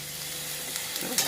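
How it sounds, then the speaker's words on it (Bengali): Rice stir-frying in a hot pan with soy sauce, a steady close sizzle throughout with a few sharper scrapes and crackles from stirring toward the end. "এবার একটু নাড়াচাড়া করবো"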